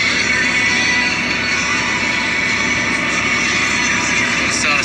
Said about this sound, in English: Air seeding, putting beans in.